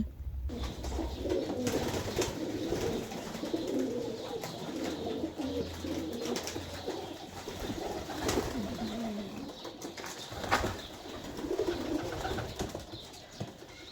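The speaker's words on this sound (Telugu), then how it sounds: "ఇక్కడ చూడండి పావురాలు రకరకాల పావురాలు ఉన్నాయి" Low, soft cooing of pigeons of various colours rolls on continuously, several birds overlapping, with occasional flutters and faint background noise.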